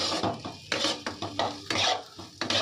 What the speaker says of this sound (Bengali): এখানে আলু আর ডিম একসাথে ভেজে নিয়েছি